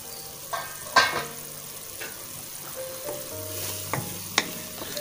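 Egg curry masala frying and cooking in a pan, a soft steady sizzle broken by several sharp clinks and scrapes of stirring, close and fairly quiet with no talk.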